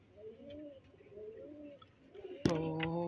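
Large pigeons in a loft give soft, repeated low coos in a gentle rhythm, quiet and close; a sudden louder sound breaks in near the end.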